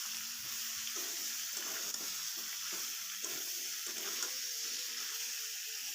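Ginger, cumin and green chili paste sizzling in hot oil while being stirred for a pomfret curry with potato and kohlrabi, a soft, steady frying hiss with light scraping, quiet and close, no voices.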